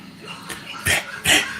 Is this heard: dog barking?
yes